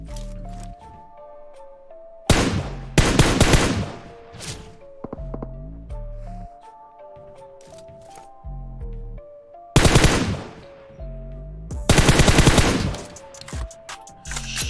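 Sniper fire and other gunfire in a video game, loud sharp bursts of shots in clusters with quieter game sounds between them.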